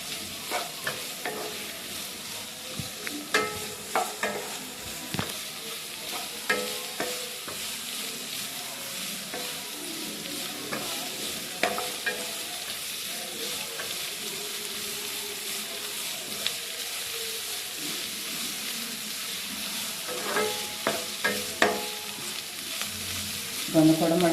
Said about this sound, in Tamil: வெங்காயம் ரொம்ப வதங்க வேண்டாம்.